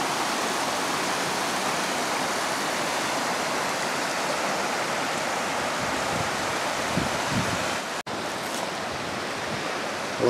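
Halls Creek rushing steadily below the Blakely Mine near the falls, a dense, continuous broadband wash of water over rocks, close and constant, with no voices.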